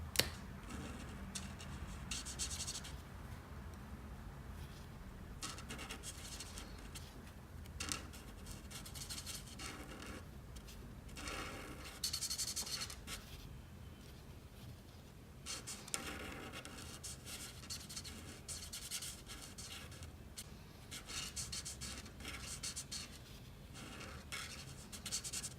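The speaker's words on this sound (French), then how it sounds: "je commence avec du Vivid Red pour colorier tout ce qui est en rouge" Soft, continuous scratching of a Vivid Red colouring marker or pencil on paper while a Fortnite drawing is filled in, close and quiet, with rhythmic strokes and occasional brief pauses.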